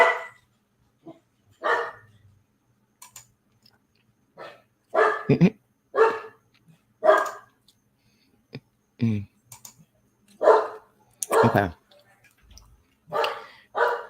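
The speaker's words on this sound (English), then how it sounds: "I'm sorry, my dog." A dog barks from another room in a series of short, muffled barks spaced irregularly through a quiet indoor space, with keyboard clicking and a person briefly speaking.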